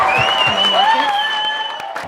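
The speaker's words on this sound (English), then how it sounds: "Still clapping." Wedding guests clap steadily in a garden setting while a sustained tonal sound, likely music, rings over the applause, with a couple of sharper claps near the end.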